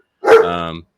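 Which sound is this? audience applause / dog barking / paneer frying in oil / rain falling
dog barking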